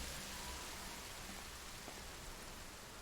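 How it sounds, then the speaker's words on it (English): Rain falling in the video game Horizon Zero Dawn, a steady wash of hissing rainfall with no talk, even and moderately faint throughout. "Why is it raining?"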